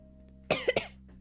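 A person coughs nearby, a sharp cough followed by two quick further bursts, against a quiet background.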